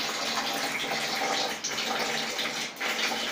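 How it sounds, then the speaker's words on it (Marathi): Water runs steadily from the tap of an instant electric water heater, a loud continuous gushing with brief dips in flow, no talking. "चालू केलं केलं 5 ते 7 मिनिटात गरम पाणी यायला लागतं."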